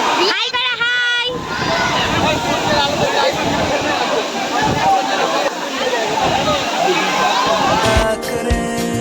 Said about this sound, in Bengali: এখানে সবাই ঝর্ণার জলে স্নান করছিল